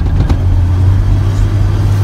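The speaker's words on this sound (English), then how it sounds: "So this is actually my first time actually driving the truck." A 2005 Chevrolet Silverado truck rolling along, its low engine hum and steady drone close and loud, with a brief knock near the start.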